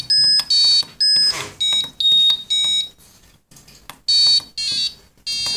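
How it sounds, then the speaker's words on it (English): Bursts of bright electronic beeping tones from an Arduino music keyboard, played as a quick run of short chiptune-like notes with brief gaps, close and clear. "Sounds like Game Boy music."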